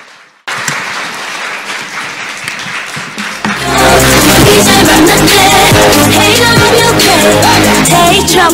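After a short quiet moment, a large audience breaks into sustained applause following a speech, dense clapping that swells louder midway and continues steadily, with cheerful music rising underneath.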